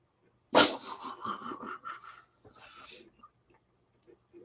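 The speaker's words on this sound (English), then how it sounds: "Well, Rocky baying for a treat." A dog bays and pants for a treat, opening with a loud, close bark-like howl followed by rapid panting and whimpering breaths that fade into softer snuffles.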